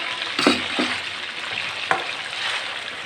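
Ginger garlic paste frying in chicken karahi, a steady broad sizzle with a few brief clinks and stirring knocks as the paste hits the hot pan.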